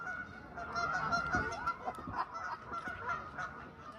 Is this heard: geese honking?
yes